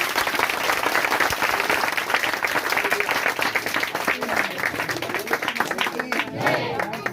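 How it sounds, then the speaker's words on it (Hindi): A congregation at a Friday prayer meeting claps loudly and continuously, a fast, dense patter of hands with some voices mixed in, easing slightly near the end. "तो आइए एक बार जोरदार ताली बजाएंगे।"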